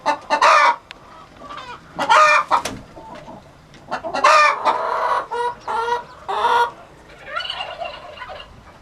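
Farm chickens on a Bolinas, California farm cluck and call loudly in repeated bursts, overlapping squawks and trills close by, with short quiet gaps between calls.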